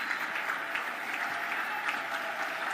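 Audience applause for the President of Tanzania fills the hall, a steady, dense clapping that holds at an even level from start to finish, with no voices over it.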